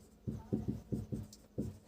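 Pen or chalk writing on a board during a lesson, six short scratchy strokes in an uneven rhythm, fairly close and moderately loud, with no talking over them.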